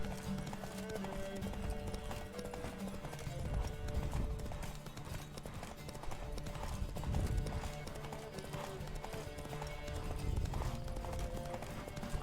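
Horse hooves clip-clopping at a steady gallop across a game world in The Witcher 3, with a brief whinny, layered over dense game music and effects.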